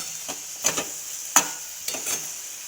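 Broad bean pods fry in a pan while a spoon stirs them, producing soft scraping strokes every half second or so over a steady sizzle, close up and without voices.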